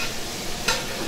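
Shrimp and garlic sizzle in a hot pan, a steady close frying hiss with a brief sharper crackle partway through, no talk.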